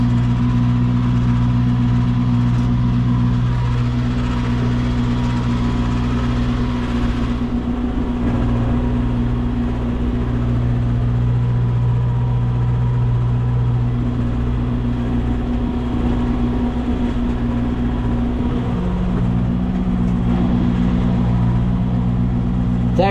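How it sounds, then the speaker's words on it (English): A John Deere 5101E tractor engine runs steadily while making hay, a continuous low droning hum with stable tonal throb heard from inside the cab, moderately quiet and unbroken throughout. "the tractor is actually pretty quiet when you're in the cab"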